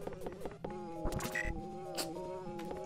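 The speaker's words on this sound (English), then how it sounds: "I love this bee noise." In the video game EarthBound, a buzzing bee effect drones in short, loud bursts layered over the game's music and chiptune effects.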